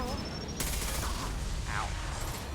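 Sustained weapon fire with incendiary ammo in Mass Effect Legendary Edition, a dense rattle of shots mixed with game effects and voices.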